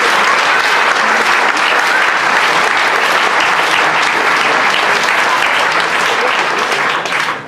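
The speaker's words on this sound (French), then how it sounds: "Ça mérite des applaudissements" Dense, loud applause from an audience in Plouvien, France, celebrating a junior world cyclocross champion, continuous even clapping that tapers slightly at the very end.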